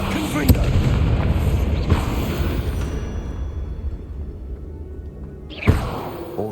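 A Confringo spell explodes in the Hogwarts Legacy video game, with sharp booming blasts near the start followed by a rumbling decay, then another sudden impact near the end amid busy game sounds.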